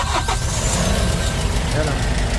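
Kia K2500 truck engine, one that blows white smoke, cranks over and starts with a single quick turn, then settles into a steady, loud mid-pitched idle up close while someone speaks over it.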